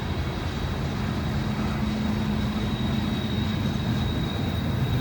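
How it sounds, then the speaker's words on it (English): A Union Pacific locomotive at the rear of a long, heavy freight train draws near, its engine drone and a steady tonal hum riding over the loud continuous rumble of rolling cars. "I see the last locomotive"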